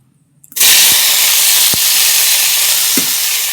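Boiled ivy gourd (kundri) hits hot oil and breaks into a loud, steady sizzle. A few soft clinks of a utensil sound near the start.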